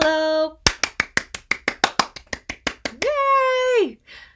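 A group of children at a story-time singalong clap their hands in a steady rhythm of about fifteen sharp, evenly spaced claps, bracketed by sung voices before and after.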